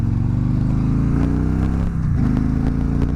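A Polaris Victory motorcycle engine revs loudly and steadily close by, its pitch climbing and dipping with the throttle, no voices over it.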